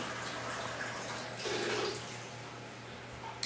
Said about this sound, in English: This is our tap water running.